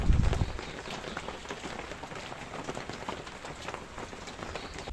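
Steady rain patters across a surface by a river, a dense continuous hiss with scattered drops, after a brief low thump at the start.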